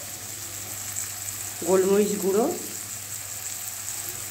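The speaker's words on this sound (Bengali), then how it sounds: "এবার ভাজা হোক ক্যাপসিকামটা।" Capsicum frying in a pan with salt, turmeric and pepper powder, a brief loud sizzle and stir lasting about a second over a steady low hiss, with a voice speaking nearby.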